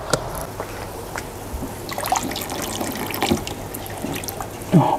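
Water trickles and drips softly from a tap into an aquarium tank, quiet and steady with small splashes scattered through.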